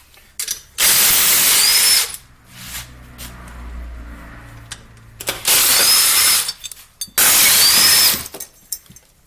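A power tool, likely an impact wrench or drill, removes the motor mounts from a snowmobile engine, with three loud close bursts of whirring and rattling separated by quieter pauses with handling noise.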